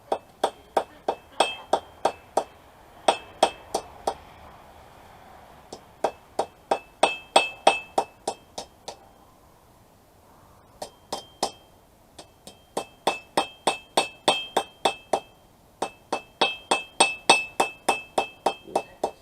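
Rapid, ringing metallic hammer blows on a forged rebar throwing knife, struck in quick bursts of strikes with short pauses between, close and sharp.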